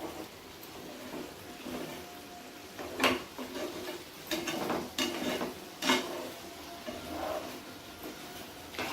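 Paneer butter masala with cashews is stirred in a pan, a spoon scraping and clacking against the metal in irregular strokes over a soft sizzle, with a few louder knocks.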